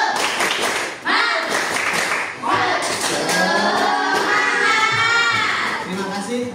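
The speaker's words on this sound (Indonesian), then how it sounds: "Untuk mengakhiri kegiatan ini, tepuk semangat dulu. Tepuk semangat." A classroom of children doing a rhythmic spirit clap at the end of a lesson, patterned bursts of clapping mixed with children chanting and shouting along, loud and close.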